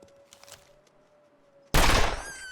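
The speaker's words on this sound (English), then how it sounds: "I think we actually heard the gunshot echo out for a bit there." A hunting revolver in The Long Dark fires one sudden loud gunshot after a quiet stretch, its blast rolling out into a long, fading echo.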